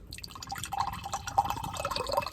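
Coconut water poured from close by into a wine glass, a bright trickling splash with small drips that runs steadily for about two seconds, with no talking.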